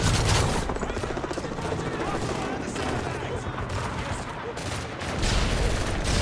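Gunfire in the Call of Duty Modern Warfare 3 video game rattles in rapid, loud bursts over a thick battle rumble, with dense volleys throughout and a voice speaking over the shooting.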